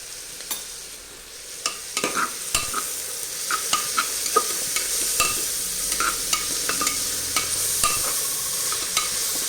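Sliced onions frying in a pan for potato capsicum masala, a steady soft sizzle broken by repeated scrapes and clicks of a spoon stirring against the pan, close and even throughout.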